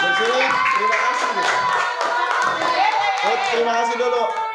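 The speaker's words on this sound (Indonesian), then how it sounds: "beri tepuk tangan untuk kelompok 2" A group of teachers in a coaching workshop applauds a class team, steady clapping with a few whoops filling the room while voices carry on underneath.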